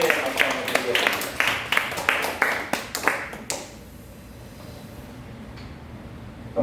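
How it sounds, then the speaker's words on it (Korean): A small church congregation claps in encouragement for a returning member during a Sunday service, distinct individual hand claps for about three and a half seconds before fading into quiet room noise. "위로와 격려의 박수 한번 드리겠습니다"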